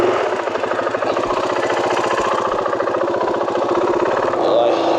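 Motorcycle engine running steadily at close range, loaded with gear on a trip near Tikal, Guatemala, with a rapid pulsing rumble that continues unbroken for the whole stretch and shifts slightly near the end.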